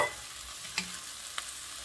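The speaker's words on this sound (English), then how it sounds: "I'm sauteing it." Spinach sauteing in a pot and stirred with a wooden spoon, a soft steady sizzle broken by two brief spoon knocks, close and quiet, with no voices.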